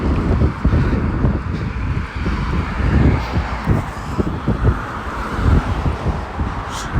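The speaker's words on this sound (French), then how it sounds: "j'essaye un maximum de vous cacher du vent, mais je sais pas où est le micro" Wind buffets a microphone outdoors in Newbridge, Ireland, with loud, continuous low rumbling and gusty thumps throughout and no clear voice on top.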